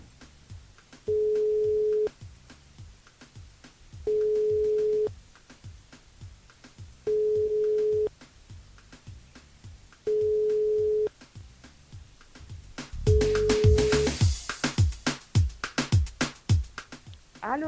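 Telephone line tones as a radio show's call connects: five evenly spaced steady beeps about a second long with pauses between, followed by a louder burst of clicking and crackle as the line opens, with no talk.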